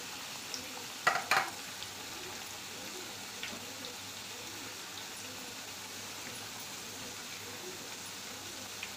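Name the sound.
potato wafers frying in hot oil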